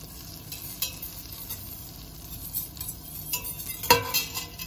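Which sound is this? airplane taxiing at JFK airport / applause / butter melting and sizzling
butter melting and sizzling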